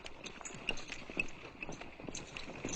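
Hoofbeats clip-clop steadily at a moderate distance, the rhythmic thudding of horses drawing an approaching stagecoach over a broad, noisy background.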